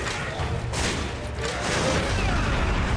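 Gunfire from a weapon aimed at a creature's head in Resident Evil 5's underground garden, dense booming bursts that blend into a continuous loud barrage lasting the whole moment.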